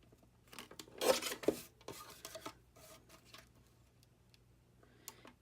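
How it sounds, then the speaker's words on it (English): A small tabletop paper trimmer slicing a card: quiet scraping blade slides with a couple of sharper crunching strokes, then soft rustles and taps, close and faint. "So I'm just going to pull out my little mini tabletop trimmer and trim this down."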